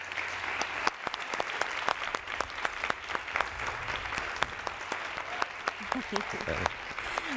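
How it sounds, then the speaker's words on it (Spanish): Studio audience applauding guests on a Spanish-language talk show stage, steady clapping throughout with sharp individual claps standing out and a host's voice speaking over it. "Que siga el aplauso para Alejandra Trigueros"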